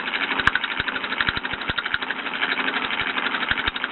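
A small Bowman M135 toy steam engine runs with oil fed to its cylinder, giving off a steady mechanical whirring with irregular faint clicks and knocks, close by, with no voices.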